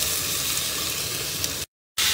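Potato slices fry in hot oil with a loud, dense, steady sizzle that cuts out briefly near the end and then returns.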